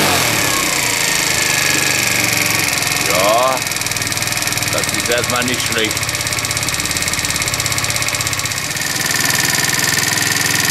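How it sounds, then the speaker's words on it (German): A 50cc four-stroke moped engine fitted with a 90cc kit runs steadily at idle throughout, a close, continuous mechanical hum with a brief rise when revved, while someone speaks over it. "Der Motor ist angesprungen."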